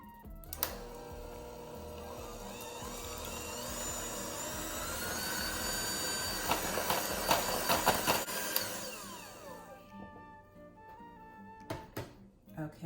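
A stand mixer with a paddle beats an egg into brown butter pound cake batter, giving a loud, steady whirring drone that runs for several seconds, then cuts off and leaves a few light knocks.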